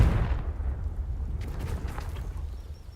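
Confringo fire blast spell cast in the video game Hogwarts Legacy, a deep booming burst that hits hard at the start and rolls into a sustained low rumble, with faint crackling debris scattered through the tail.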